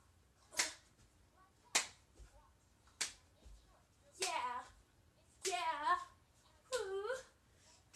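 Sharp, separate hand claps land one at a time during a squat-jump workout, with effortful vocal sounds and grunts between the later claps.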